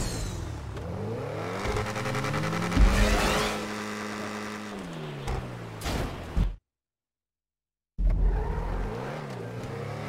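A car engine in GTA V Online drives and revs steadily, loud and close, with rising and falling harmonic tones and a brief squeal-like burst, then cuts to silence for over a second before the engine returns.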